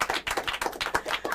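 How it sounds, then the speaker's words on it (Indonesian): A small audience at an open mic comedy talk claps in a quick, uneven burst, close and fairly loud, with clustered hand claps that rise and dip over a moment. "Tepuk tangan dong."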